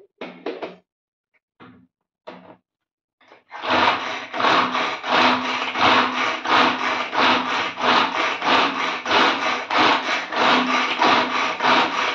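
Ground spice paste for chole bhature being grated, a few brief scrapes at first, then a steady run of rhythmic rasping strokes, close and loud, with no talking.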